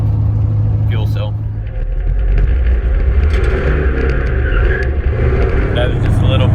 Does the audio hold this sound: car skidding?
yes